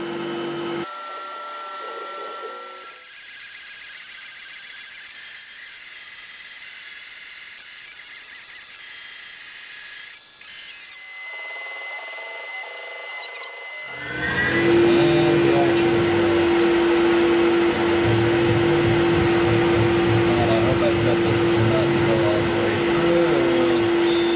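A CNC milling machine with a 1/16 end mill cutting a contour path on knife parts whirs steadily with a high spindle whine, then grows louder and harsher as the cutter bites into material, grinding continuously.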